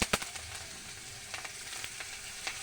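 Black cumin, torn green chilies and chopped onion crackle in hot oil, a steady close sizzle broken by sharp pops and spits, with no voices.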